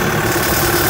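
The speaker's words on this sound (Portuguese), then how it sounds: "Já vai ligar o trator lá" A tractor engine on a dairy farm runs at a steady idle, a loud, close, continuous rumble with a slight vibrating rattle and no voices.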